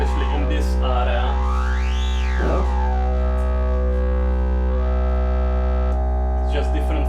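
Bastl Instruments modular synthesizer with sawtooth-style filter resonance, a steady buzzy drone with a resonant sweep rising and falling, then holding a rich harmonic tone, with brief soft talk over it.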